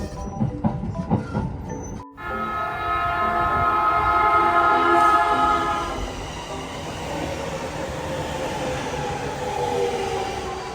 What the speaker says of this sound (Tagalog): Ang haba naman ng train na to.